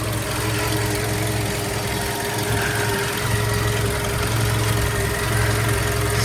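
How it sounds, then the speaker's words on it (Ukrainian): A 2008 VW Golf 1.6 petrol engine (75 kW) idles steadily at close range, a constant low hum with a faint whine on top, unchanging throughout. "Мотор працює добре"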